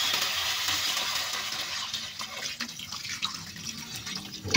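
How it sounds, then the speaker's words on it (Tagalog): Water pours steadily into a cooking pot for tinola tuna jaw soup, a continuous close splashing rush with no talking. "Lagyan na rin natin ng tubig mga loads."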